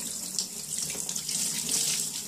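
Running tap water splashes steadily into a sink as a paint roller is rinsed clean of paint, a continuous close hiss and spatter with no talking.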